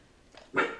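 A dog lets out one short, sharp bark indoors, fairly faint and slightly distant after a brief quiet moment.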